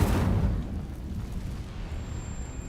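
A fire spell is cast in Hogwarts Legacy. It lands as a loud, low whooshing burst at the onset, then decays into a rumbling roar of flame that fades over a couple of seconds.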